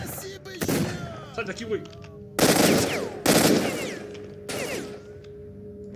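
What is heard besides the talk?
gunfire in the video game S.T.A.L.K.E.R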